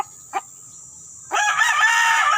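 A brief cluck, a pause, then a loud crow from a fighting rooster, starting close by and carrying on strongly to the end.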